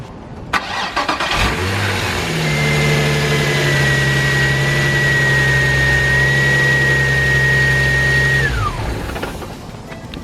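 A car engine, after a power steering belt repair, cranks and starts, then idles steadily and loudly for several seconds before shutting off near the end.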